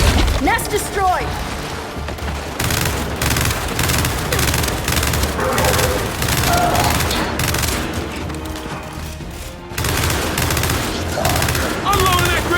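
Dense, loud video-game gunfire from the Gears 5 campaign on Insane difficulty, with rapid automatic bursts and booming impacts layered over one another, running almost without pause beneath in-game voices.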